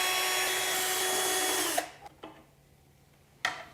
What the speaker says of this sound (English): Remove the 4 T30 Torx screws holding the pulley side dust cover in place and remove the cover.